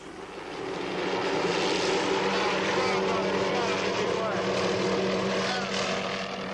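A malfunctioning helicopter in flight produces a steady, loud engine and rotor roar that swells in and holds continuously.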